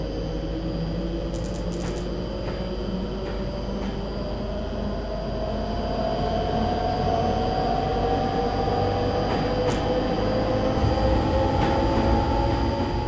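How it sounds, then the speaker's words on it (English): A Class 390 Pendolino accelerates on the West Coast Main Line in Train Simulator, a steady electric traction whine rising smoothly in pitch over a constant rumbling rail roar, heard alone and gradually louder. "a stop like this also gives you a chance to hear the sound train's acceleration as well"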